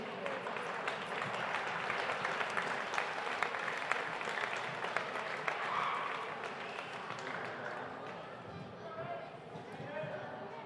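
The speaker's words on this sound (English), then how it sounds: "As he'll get a round of applause heading off the floor." A gym crowd applauds a senior leaving the floor on senior night at an Altamont high school basketball game, with sustained clapping and murmur under a commentator's voice that eases off toward the end.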